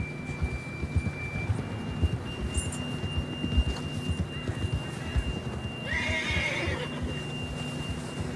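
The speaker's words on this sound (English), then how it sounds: "John was riding that horse when we left Blackwater." A horse in Red Dead Redemption 2 clip-clops steadily through an outdoor scene, then lets out a loud, drawn-out neigh near the end, with ambient background noise and no speech.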